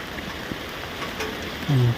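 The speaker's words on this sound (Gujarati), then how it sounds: "વરસાદ ધીમે ધીમે હળવે હળવે વધતો જાય છે" Steady rain patters onto water in a village in Botad, with a dense, even hiss, and a brief low droning tone rises near the end.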